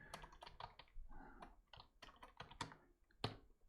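Quiet, close clatter of keys being typed on a computer keyboard, irregular bursts of clicks with brief pauses, no voices.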